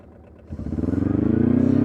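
A diesel UTV, Polaris Diesel 455 or Arctic Cat 700 D, going to full throttle: a quiet idle that jumps into a loud, rising, pulsing diesel drone that keeps climbing in pitch, close and steady.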